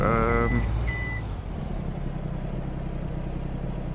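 A lorry in Farming Simulator 22 gives a few quick reversing beeps over a loud, rumbling truck engine that keeps droning steadily after the beeps stop.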